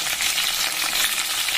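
Garlic, curry leaves and shallots fry in a pan, giving a steady, fairly loud sizzle with crackling that runs through the whole short stretch, with no voices over it.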